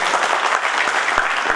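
Loud audience applause fills the hall at a party gathering in Delhi, dense steady clapping throughout with no speech over it.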